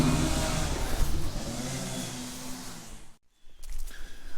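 An old tractor engine with a governor that is slow to respond runs steadily at speed, then falls away to a brief near-silence before settling into a lower, rougher idle.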